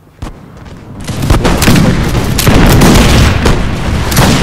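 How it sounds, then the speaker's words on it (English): Musket volleys from infantry in a Napoleonic battle video game set during the Russian invasion of France, 1807: a sharp crack followed by a dense, continuous rumble of overlapping shots and booming fire. "I'm going to trade musket shots with my infantry."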